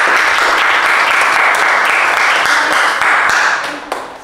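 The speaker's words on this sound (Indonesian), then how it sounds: "Tepuk tangan dulu untuk kita semua." A school classroom audience bursts into loud sustained applause, dense clapping holding steady before tapering off at the end.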